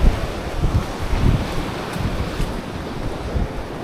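Steady broadband wash of sea waves at a quiet beach front, mixed with wind buffeting the microphone, continuous and fairly close with no voices.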